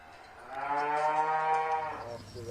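German cows tethered in a Bavarian barn let out a single long, loud, close moo that swells and holds for about two seconds before fading.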